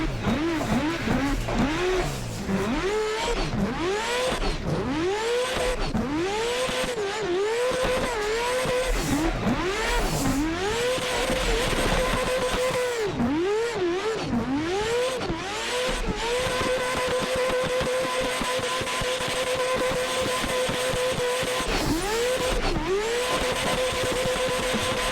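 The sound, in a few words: rotary-swapped McLaren drift car in video game Assetto Corsa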